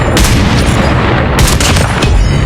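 Sniper rifle fire in the Call of Duty Mobile game, loud and dense, with sharp cracks and booming reports over a continuous roar of battle noise.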